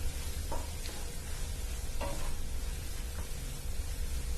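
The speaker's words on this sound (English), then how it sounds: "So mix it well" A spoon scraping and stirring a mixture of vegetables and broccoli in a pan, with a few distinct scrapes over a constant sizzling bed of frying, no talking.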